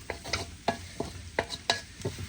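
Chicken kothu parotta with leeks, carrots and beans stir-fried in a hot pan, a metal utensil clanking and scraping in a quick irregular rhythm over a steady sizzle.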